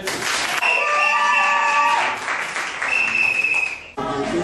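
Applause from a gathered wedding crowd, steady and fairly loud, with a sustained high tone and chatter mixed in, briefly dipping near the end before resuming.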